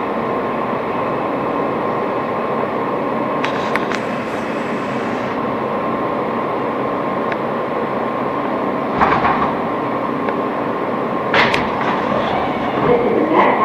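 An R160 New York subway train on the F line, running via the West End and 4th Avenue, rolls along the tracks with a steady loud roar heard from on board, occasional clicks and squeals breaking through.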